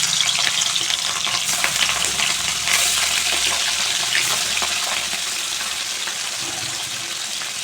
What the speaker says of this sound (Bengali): তেল গরম হয়ে গেছে, মাছ ভেজে নিচ্ছি।